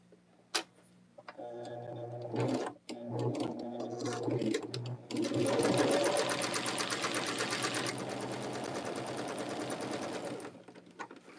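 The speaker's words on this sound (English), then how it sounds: "we're going to sew those together." Sewing machine stitching quilt block fabric pieces together, a close, steady rapid mechanical ticking that starts, runs several seconds and stops, with faint handling noises around it.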